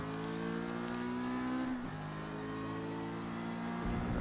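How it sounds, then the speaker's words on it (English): Engine of a Mazda MX-5 racing at Kyalami in Forza Motorsport, held at steady high revs, then braking hard with quick downshifts into first gear for a tight left-hander, rising again briefly at the end. "you have heavy braking for this tight left-hander all the way down to first gear"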